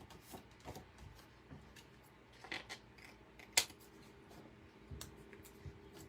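White thread snipped with scissors, a couple of quiet, crisp cuts against a soft room hush, close but faint, with no talking.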